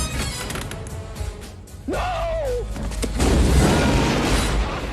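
A movie-style grenade explosion: a deep booming blast with a crashing rumble, followed by a rising whistle-like tone and a heavy, noisy roar that swells toward the end.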